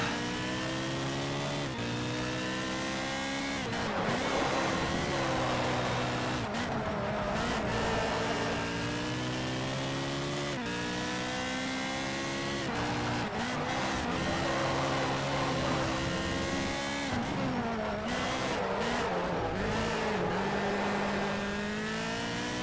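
A Ferrari 430 races in the Test Drive Ferrari Racing Legends video game, its engine whining loud and continuous, pitch rising through the gears, dropping at each shift and climbing again over and over.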